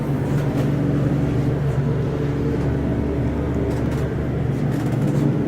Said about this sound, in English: You can see the motor stopping.